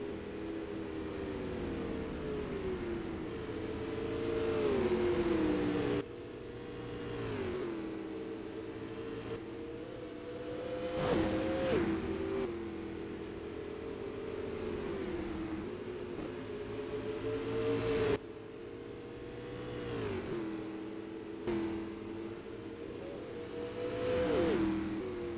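Supermodified race cars in a sim racing game at Salem Speedway, engines droning and shifting pitch continuously as they circle the oval in lapped traffic, with passes swelling louder at intervals.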